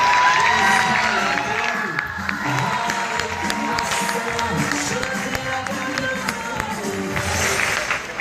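Schoolchildren standing and clapping during a speech at an event in Thatta, a loud mix of crowd noise, cheers and children's shouting with clapping under it and voices throughout.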